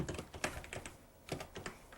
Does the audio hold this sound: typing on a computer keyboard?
yes